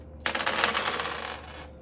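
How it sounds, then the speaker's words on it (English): Dice rattling and tumbling across a surface during a Greedy dice game, a quick burst of clattering hits that fades out over about a second. "to roll the dice."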